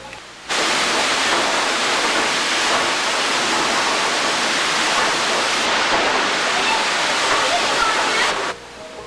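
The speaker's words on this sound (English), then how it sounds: "This roar diminishes and the stream flows into a beautiful meadow." Steady, loud roar of stream water pouring from an early 19th-century mill's tub wheel in Vermont, a continuous broadband rush starting abruptly and holding level for about eight seconds before cutting off.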